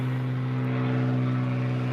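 An airplane passes overhead near a garden of magenta bougainvillea, a loud steady engine drone with a strong low hum that holds through the clip with no talk.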